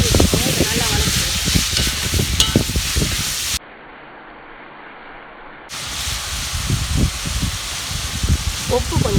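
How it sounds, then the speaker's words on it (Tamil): Chopped tomatoes sizzle and crackle steadily in a hot pan with occasional stirring scrapes, briefly cutting out in the middle before resuming. "இது நல்லா வதக்கிக்கலாம்."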